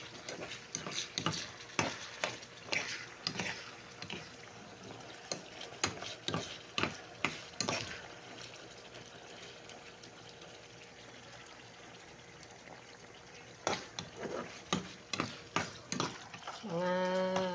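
Ground pork sautéing with alamang shrimp paste, turmeric powder and seasoning in a pan, heard as irregular clicks and scrapes of stirring that come in clusters between quieter stretches, close up, with a brief tonal sound at the very end.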